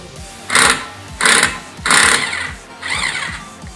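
A wrench removes a nut in four short, loud mechanical buzzing bursts. Each lasts about half a second, with brief pauses between.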